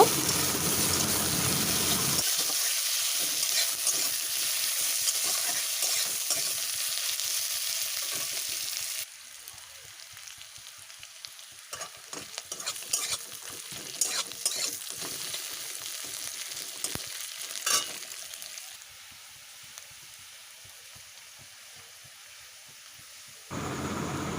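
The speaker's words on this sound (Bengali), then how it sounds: "গোটা জিরে দিয়ে দিলাম বেশ কিছুটা কুচুটা পেঁয়াজ পেঁয়াজটা দিয়ে ভালোভাবে ভেজে নেব" Chopped onion fries with whole cumin seeds in hot oil for a fish curry, a loud, continuous hiss and crackle close up that drops to a quieter sizzle partway through, with occasional stirring clicks, then surges again.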